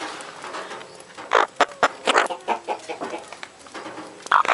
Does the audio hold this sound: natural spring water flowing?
no